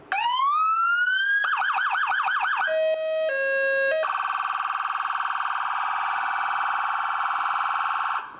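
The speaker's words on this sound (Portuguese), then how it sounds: "Essa é a Yelp. Ela dá uma característica de que uma emergência está em andamento" An ambulance siren sounds loud and alone, running through a rapid yelp warble before switching to other electronic wail and steady tone patterns.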